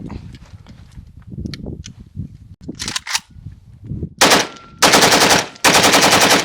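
Rapid bursts of AK rifle fire ring out loud and close, several long automatic strings separated by brief gaps, after a stretch of quieter handling noise at a range.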